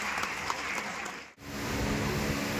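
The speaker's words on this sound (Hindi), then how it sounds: "आइए हमारे बीच में कुंदन आनंद जी, जोरदार तालियां बजाएं।" Applause for poet Kundan Anand at a cultural event in Patna, full crowd clapping that dips to near silence midway, then swells back to a steady roar.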